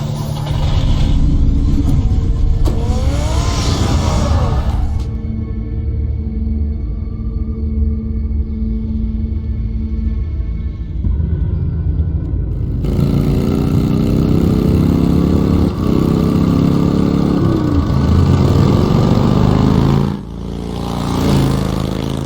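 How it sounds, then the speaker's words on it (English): A car engine in the Batman Telltale Series video game roars loudly and revs as the vehicle drives away, with shifting gear-like pitch sweeps and a steady rumbling drone lasting over twenty seconds. "Get the car ready, Alfred."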